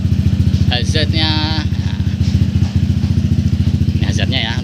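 A Honda ADV 150 scooter engine idles with a steady, close, pulsing putter throughout, while a person talks briefly over it.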